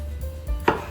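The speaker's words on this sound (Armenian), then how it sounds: "պղպեղը կլորավուն ենք նույնպես կտրատում" A knife slices pepper into rounds on a cutting board for Armenian khashlama, a few soft cuts followed by one sharp, close thunk of the blade hitting the board; no speech.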